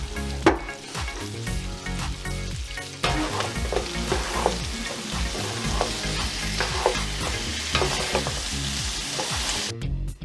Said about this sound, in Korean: 잘 섞은 양념에 튀긴 재료들을 넣고 잘 버무려 주세요.